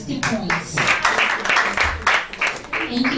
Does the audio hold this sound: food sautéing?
no